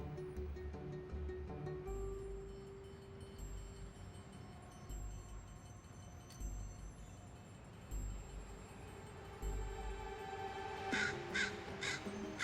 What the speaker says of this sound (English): To many, just the tentative scold of one young crow.